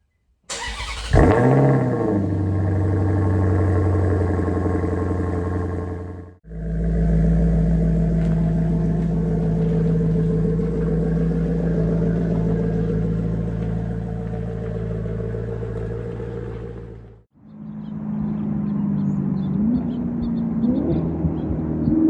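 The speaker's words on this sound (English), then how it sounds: "Driving the 5th generation Maserati Quattroporte Sport GTS." A car engine rumbles loudly and steadily, rising in pitch as it accelerates through gears, with brief drops between shifts.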